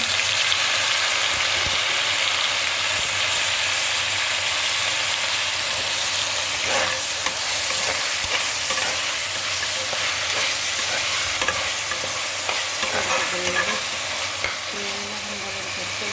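Chopped tomatoes hit a pan of frying onions and are stirred through, a steady close sizzle broken by scraping spoon strokes and clatter against the pan, with no voices.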